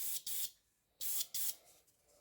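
Airbrush hissing out a very light dust coat of paint onto a scale model of a Russian Navy Project 955 Dolgoruky submarine, working around the fins, in four short close bursts with quiet pauses between.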